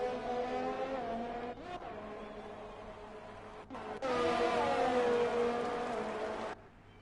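Race cars in the F1 2020 video game, on the Mexico circuit, roar past with sustained engine whine that shifts and cuts out, then a louder surge of engine noise as more cars pass close by.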